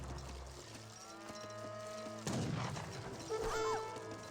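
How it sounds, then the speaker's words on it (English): Cattle moo repeatedly in an Age of Empires 3 match, with low, drawn-out game calls over a quiet background, then a sudden burst of battle noise and a few short effects. "Villagers trying to obtain the cows."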